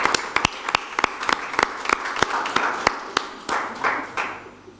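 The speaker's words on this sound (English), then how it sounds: "A round of applause." Sparse applause from a small audience at a health and climate hacklab conference session, with distinct sharp individual claps close by over a softer patter of clapping, continuing for several seconds.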